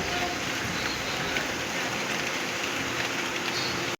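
Steady, dense rain falls in a continuous hiss throughout, close and fairly loud, with no breaks.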